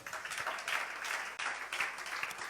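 Church congregation applauding and cheering: dense, continuous clapping at moderate volume with rising and falling swells, and no separate speech over it.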